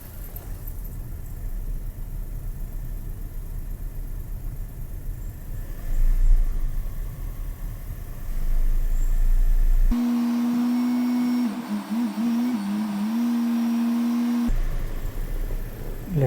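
A Škoda Rapid 1.0 TSI small turbocharged petrol engine is revved during a home coolant change. It sounds as a close, steady engine drone that rises in a couple of swells, then gives way to a different steady hum with a tonal whine.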